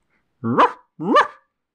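A voice imitates a dog, giving two short, close barks in quick succession, with silence around them.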